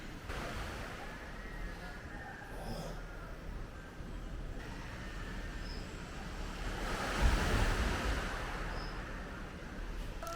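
Steady roar of strong wind buffeting the microphone over a broad wash of surf at a beach in Real, Quezon, swelling louder near the end.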